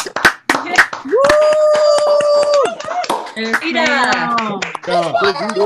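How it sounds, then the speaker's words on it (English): Participants on an online masterclass call clap and cheer, with sharp individual hand claps mixed among excited voices, a sustained whoop and overlapping chatter. "let's go ahead and give a round of applause"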